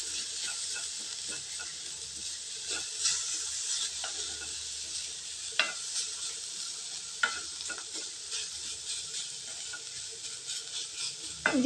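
Ginger, garlic and green chili paste sautés in hot oil after onions, a soft steady sizzle and hiss with a few sharp utensil taps against the pan, fairly quiet and close, no voices.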